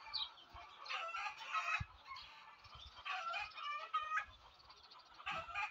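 Many laying hens, eight-month-old LSL Lite breed, cluck and squawk continuously in a busy chorus on a layer farm, with occasional low thumps and rattles of cages underneath.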